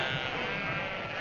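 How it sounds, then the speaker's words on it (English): Sheep bleat on a road, a close, loud, sustained bleating that continues without a break through the brief moment. "Get those sheep out of here!"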